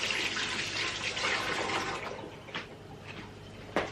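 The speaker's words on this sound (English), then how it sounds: "Cold tap to help cool the liquid down, so I'm just going to do that." Cold water runs from a kitchen tap in a soft, steady hiss that fades out, followed by a couple of faint clinks and knocks nearby.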